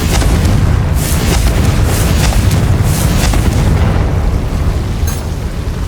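A loud, sustained fire-spell explosion from the Hogwarts Legacy video game on PS5, a dense roaring blast with crackling bursts that stays strong throughout before easing slightly at the end.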